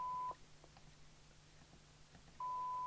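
Front panel control beep from a President Johnson II 24V CE MultiNorm mobile CB radio: a short, clean electronic tone at the start and a second identical beep near the end, with a faint low hum in between.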